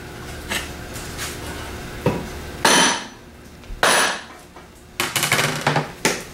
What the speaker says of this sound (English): Then we get a 2x4 and a hammer.